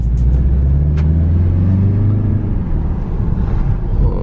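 A 2019 BMW 330i xDrive M Sport pulls away with a deep, steady engine drone and rising tone. The sound is heard from inside the car, loud and continuous, with road rumble underneath.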